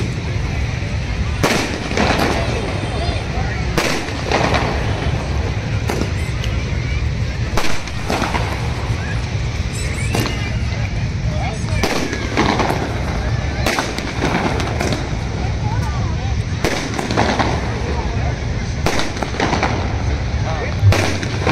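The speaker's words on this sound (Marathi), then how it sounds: "आकडे फटाके फुटत." Firecrackers burst at the Agri Koli Malvani Konkan festival in Bhayandar East: sharp bangs go off every second or two over a constant roar of crowd noise.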